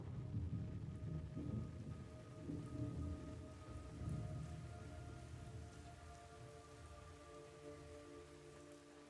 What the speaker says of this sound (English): It's raining blood.